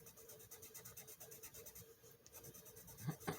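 Steady scratchy strokes of a RoseArt watercolor pencil dragging across paper, rhythmic and close, with a few heavier pressing strokes toward the end.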